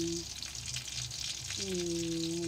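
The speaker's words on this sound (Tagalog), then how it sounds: "ngayon ay gigisa natin yung sibuyas at saka bawang" Onion and garlic sauté in hot oil in a home kitchen pan, giving a steady close sizzle with soft stirring, while a brief tonal hum comes and goes in the background.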